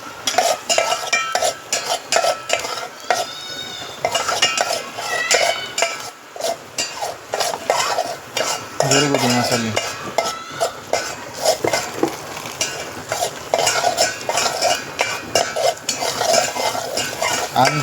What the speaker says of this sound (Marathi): चवीनुसार मीठ टाकायचं थोडासा मसाला भाजून घ्यायचा आपल्याला